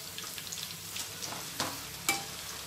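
Food sizzles steadily in hot oil in a pan, a dense continuous crackle with a couple of sharper pops standing out, moderately loud and close with no talking.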